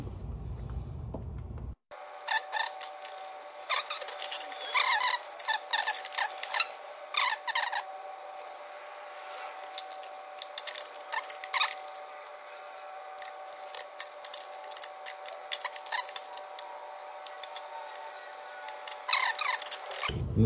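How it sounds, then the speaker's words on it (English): A differential fluid bag's plastic nozzle is snipped with scissors during a 2020 GMC Denali HD axle fluid change, heard as a series of close, crisp cuts and rustles, some in quick clusters, set against a steady faint hum. "you want to cut this nozzle as long as you can so that it all goes in."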